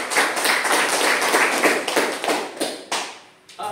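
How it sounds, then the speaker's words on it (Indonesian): A classroom of students clapping their hands together, a dense, loud burst of applause that carries on steadily for several seconds before thinning into scattered claps near the end. "Tepuk tangan dulu."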